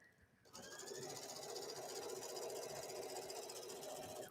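A sewing machine runs steadily at speed from about half a second on, stitching along a fabric edge through seam allowances while sewing a bathing suit coverup; the whirring hum is close, continuous and loud, with no talk over it.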